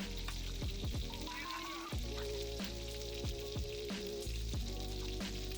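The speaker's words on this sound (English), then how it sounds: "At this point, you can add in your shrimp and cook them for about 5 minutes." Shrimp simmering in a pan of coconut milk seasoned with fish sauce, a steady close sizzle and bubbling with a few soft utensil knocks and clinks against the pan throughout.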